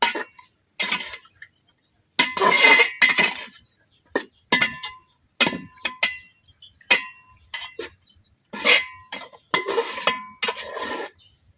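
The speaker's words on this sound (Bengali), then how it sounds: "মাংসের সাথে মশলাটা খুব ভালোভাবে মিশিয়ে নিচ্ছি।" Chicken meat with spices being stirred in a cooking pot in a village kitchen, producing repeated bursts of scraping and clinking of a utensil against metal, uneven in rhythm and fairly close, with quiet gaps between strokes.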